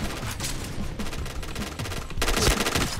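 Bursts of automatic machine gun fire in a shooter video game, loud and close, with rapid repeated shots continuing throughout and growing denser toward the end.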